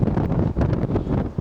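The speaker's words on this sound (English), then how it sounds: "As you can hear, it's very windy and it's also very cold." Strong wind buffets the microphone on an outdoor public viewing gallery in cold early-winter weather in Canberra, a loud continuous roar with gusty swells and no voices.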